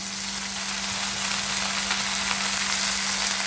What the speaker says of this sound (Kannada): ಇದಿಷ್ಟನ್ನು ಆಯಿಲಲ್ಲಿ ಚೆನ್ನಾಗಿ ಫ್ರೈ ಮಾಡ್ಕೊಂಬಿಡೋಣ